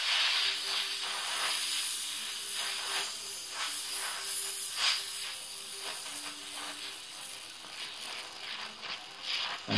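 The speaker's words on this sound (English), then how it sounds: "I want a little bit of a lazy flame on this. I don't want an oxidizing flame, I want a carburizing flame." Gas torch burning with a lazy carburizing flame while brazing brass onto sheet metal, a steady close hiss with a faint hum running throughout and no talking.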